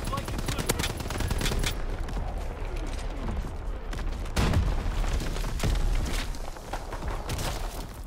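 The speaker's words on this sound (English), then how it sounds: "Firing division artillery." An artillery barrage and rattling gunfire in the WW2 shooter Call of Duty WW2: dense, continuous bursts with heavy booms rolling through, loud and close, with voices faintly mixed in.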